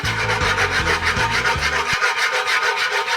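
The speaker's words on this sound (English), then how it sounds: "You're gonna take a wire whisk, and you're gonna whisk it." Wire whisk stirring flour into a roux in a pan for turkey gravy: rapid, rhythmic scraping and rubbing strokes against the pan, close and fairly loud, continuing steadily throughout.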